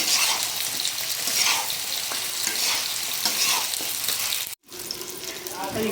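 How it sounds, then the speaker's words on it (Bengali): Potatoes and flat beans sautéing in a pan with oil, a steady close sizzle broken by scraping stirs, a brief drop out near the end before the frying resumes. "আলুটা ভালো করে আমি কষাবো যাতে সিমের কাঁচা গন্ধটা না থাকে।"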